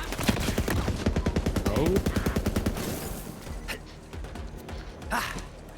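Rapid bursts of gunfire from a burst-fire weapon in a video game, loud, close and repeating in a tight rhythm before fading into scattered shots, with a brief voice exclamation.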